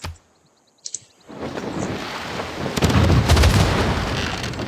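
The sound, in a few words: ranged attack shot in Civilization VI video game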